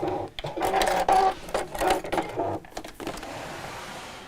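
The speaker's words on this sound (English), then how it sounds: "I found one spot on my presser foot that I'm feeding the fabric into" A domestic sewing machine runs in steady bursts with brief pauses, stitching a seam around a curved edge of fabric for a small angel decoration, the presser foot guiding the cloth; close and clear with no talk.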